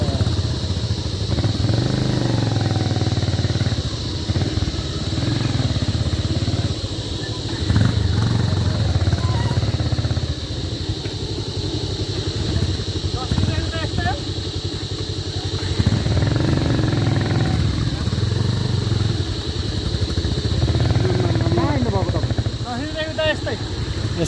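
A Bullet motorcycle rides a rough village road with a steady, loud engine drone that rises and falls a little as it goes, while people talk over it.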